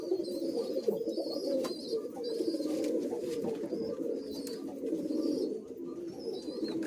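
Andhra Madrasi pigeons coo continuously in a soft, overlapping low murmur, fairly quiet and close, with faint chirps above.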